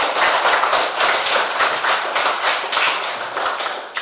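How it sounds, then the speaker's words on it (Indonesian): Schoolchildren in a classroom clap together for the mouse-deer story, a loud, close, rhythmic burst of hand claps with a quick steady beat running the whole time. "Tepuk tangan dulu untuk kancil"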